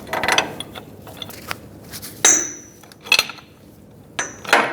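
A pipe wrench turns a reverse-threaded jam nut on the tie rod adjusting sleeve of a 2011-2018 Ram 2500, making several separate metallic clanks, scrapes and ratcheting clicks spread over a few seconds, close and fairly loud.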